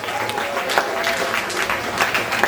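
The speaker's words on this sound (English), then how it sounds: "Give Tony a big round of applause" Audience at a Disney-MGM Studios backlot tour show applauding a volunteer, a moderate crowd clapping steadily with a few louder swells, heard from within the crowd.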